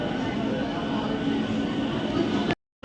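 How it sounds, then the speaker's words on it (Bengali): A train arriving at Chandannagar station rumbles steadily nearby with a loud, continuous roar, then the sound cuts off abruptly near the end. "ট্রেন এসে গেছে আমাদের উঠে পড়ছি এখন ট্রেনে"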